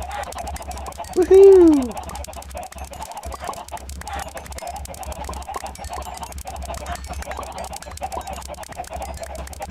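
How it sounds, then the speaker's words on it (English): Chickens in the Minecraft video game, a loud clucking squawk early on, then faint fowl noises under steady game background sound, with a brief excited voice. "Hello, chickens!"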